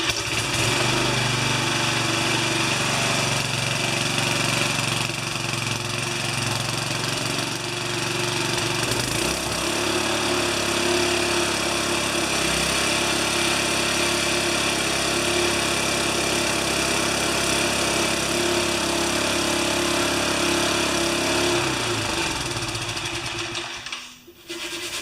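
A 1973 Briggs & Stratton tiller engine, warmed up and running out of gear at three-quarter throttle, drones steadily and loudly up close for the whole stretch before cutting off at the very end.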